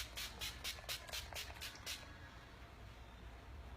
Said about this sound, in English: I'm gonna finalize everything with the 10 Years Younger finishing spray.